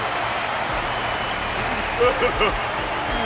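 A crowd applauds continuously in a dense, steady wash of clapping, with a few brief thumps near the end, in the video game Honkai: Star Rail.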